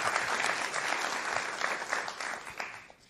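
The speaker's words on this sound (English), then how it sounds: "Round of applause." Audience applause at a food systems pitch event, a short, steady round of clapping from a seated crowd, fairly close and continuous before easing off.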